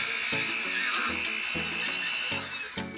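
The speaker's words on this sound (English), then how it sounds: "a flex shaft, which is kind of like a rotary tool that helps with sanding" A high-pitched flex shaft rotary tool whines steadily for a few seconds while sanding or polishing metal jewelry, with small thumps and shifts in pitch as it works against the surface.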